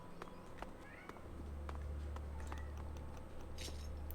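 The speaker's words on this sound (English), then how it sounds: "Hear cat noises." A faint cat meow sounds in the sci-fi role-playing game Elex, over a low droning ambience, soft clicks and a brief rustle near the end.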